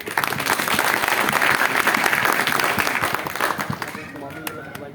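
Audience applause at a Jan Suraaj gathering in Patna, a loud burst of clapping from a crowd that keeps going, then thins and tapers off near the end as voices come through.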